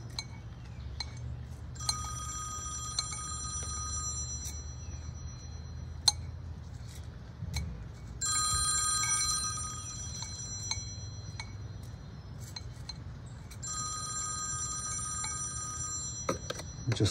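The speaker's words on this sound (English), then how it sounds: "Just letting my phone ring if you can hear it." A telephone rings in bursts of repeated electronic trills across three separate spells, moderately loud against a low room hum, with no talking, while a Thanksgiving cactus is being repotted and pruned.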